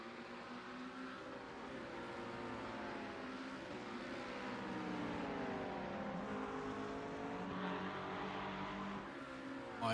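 Several GT3 race cars roar around the Monza circuit, dense overlapping engine notes rising and falling as they brake and accelerate, loud and continuous for the whole stretch with no talk.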